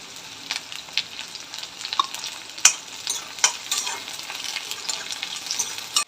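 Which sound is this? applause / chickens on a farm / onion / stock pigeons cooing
onion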